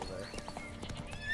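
Quick horse hoofbeats clip-clop in a video game, faint and brief, with a snort or whinny over a soft background.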